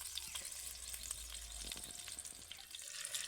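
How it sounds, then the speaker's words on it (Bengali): Butter melting over medium heat in a wok while being stirred to make ghee, a steady close sizzle with soft stirring scrapes throughout, no voices. "বাটারটা কড়াইতে দিয়ে দেবো আর উনানের জালটা কিন্তু খুব বেশি ঝরে দিলে হবে না একটু মাঝারি আঁচে রাখতে হবে আর এইভাবে নাড়তে হবে"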